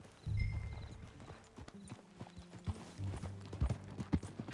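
Horse hooves clip-clopping in Red Dead Redemption II as a filly is ridden at a walk, an even rhythmic patter of hoofbeats with a brief snort near the start, fairly quiet and without talk.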